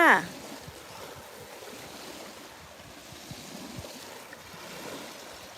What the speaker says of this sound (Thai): มาฟังเสียงคลื่นกันค่ะ